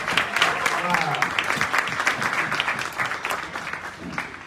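A crowd of members applauds at a community association event. The clapping is dense and sustained at a fairly close range and keeps up at an even level through the whole stretch.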